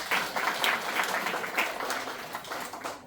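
At a spiritual discourse, a crowd claps in a dense, continuous burst of applause that swells and fades slightly over a few seconds, moderately distant.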